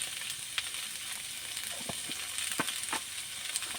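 Vegetables with bori fry quietly in a pan, seasoned with salt and turmeric, giving a soft steady sizzle with scattered crackles and the scrape of stirring.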